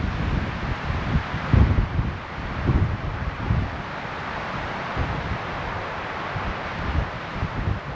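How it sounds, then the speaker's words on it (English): Strong wind gusting in the Eastern Sierras, a loud, constant roaring rush with heavy buffeting against the microphone and swelling gusts, no voices. "You can hear the wind, it's pretty gnarly."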